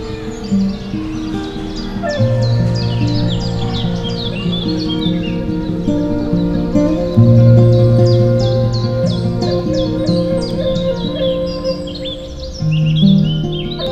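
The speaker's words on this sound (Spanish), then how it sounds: "Quizá la misma algarabía que tienen los pájaros que están en el interior del parque." Birds chirp and trill busily inside a park, loud and close, with sustained tonal calls and rapid twittering overlapping throughout.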